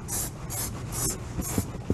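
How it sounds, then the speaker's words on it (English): Pastel fixative sprayed lightly onto a pastel painting in four short, hissing aerosol bursts with brief pauses between, close and fairly loud. "And then just spray it very, very, very lightly."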